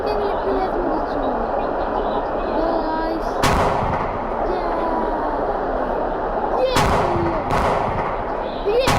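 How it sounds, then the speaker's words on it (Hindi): Heavy explosions blowing up enemy tanks at a military base in a video game: three sharp, loud booms with short tails over a dense, busy battle background, with a voice talking through it. "इधर मैंने इन सबको उड़ा दिया है।"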